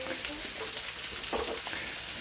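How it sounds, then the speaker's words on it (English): Oil sizzles and crackles softly in a pan, with scattered pops and faint spatter over a low background. "It's deep frying."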